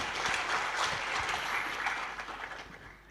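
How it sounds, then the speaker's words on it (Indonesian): Audience applause at a church sermon, a dense, steady wash of clapping at moderate level that carries on for about three seconds and tapers slightly near the end, with no voices over it. "Kita beri tepuk tangan saudaraku."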